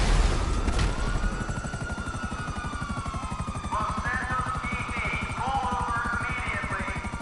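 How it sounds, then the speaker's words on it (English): A helicopter in the video game GTA V Online, its rotor thumping in a fast, steady rhythm with a whining engine tone, loud and close for the whole stretch. "Yeah, I'm on the helicopter."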